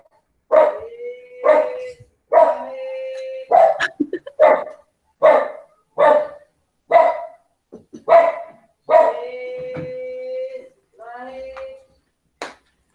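A small dog barks repeatedly and loudly nearby, a steady series of about a dozen sharp yaps spaced roughly a second apart, heard alone.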